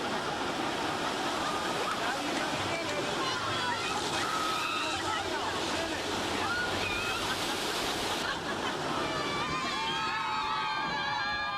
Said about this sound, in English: On the rapids, getting soaked is virtually unavoidable.